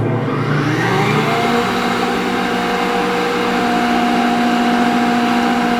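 A Northfield No. 7 25-inch woodworking planer with a knife grinder runs steadily at close range. Its motor gives a smooth, quiet hum with a few sustained tones and no talking.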